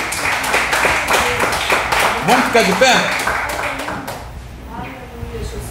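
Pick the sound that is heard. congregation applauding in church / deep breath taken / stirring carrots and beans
congregation applauding in church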